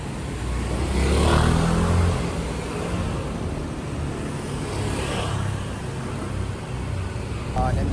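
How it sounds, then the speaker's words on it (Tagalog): Steady traffic rumble along a roadside during an outdoor jog and walkathon, with vehicles passing close, one swelling louder early on and another later, under continuous background noise. "Medyo madami-dami na yung sasakyan."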